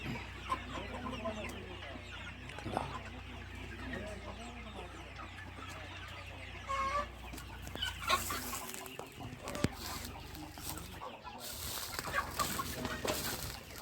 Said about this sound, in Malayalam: ഒരു ആയിരത്തിൽ കൂടുതൽ വരും കോഴി